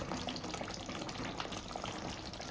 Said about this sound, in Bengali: দেখুন বন্ধুরা, গ্যাসটা অফ করে দেওয়ার পরে কত সময় ফুটছে দেখুন